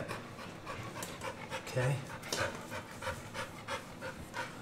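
An old Rottweiler pants steadily at close range during a chiropractic session, rhythmic breathy huffs repeating throughout, with a person speaking briefly over it.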